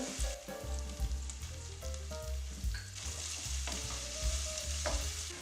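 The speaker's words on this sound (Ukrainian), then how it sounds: "коли цибуля трохи обсмажиться" Steady, close sizzling of onion frying in a pan, with a faint stirring scrape and no voices.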